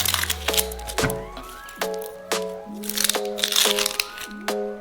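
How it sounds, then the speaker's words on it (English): Dry husk peeled off a halved onion: close, crisp crackling and crunching bursts repeating irregularly, with faint ringing kitchen tones between them and no talking. "Now you can easily peel off the husk."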